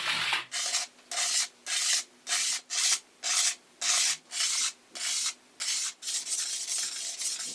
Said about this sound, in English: just using the diamond plates flat for about 5 minutes